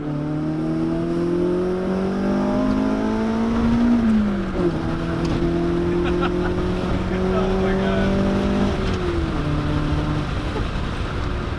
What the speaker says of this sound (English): we're gonna do a little second gear pull and see what this thing can do